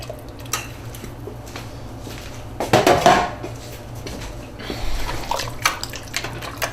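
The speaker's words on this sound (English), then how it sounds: "And just mix in your tomato sauce" Spoon scraping and clinking against a pot as tomato sauce is mixed into turkey chili, with a louder burst of clattering stirring in the middle and lighter knocks afterward over a low steady hum.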